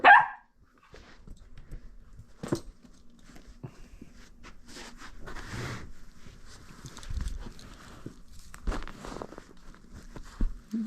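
A fearless dog barks in short, scattered bursts at a cat, with a loud outburst at the start followed by sparser barks and scuffling movement at moderate distance.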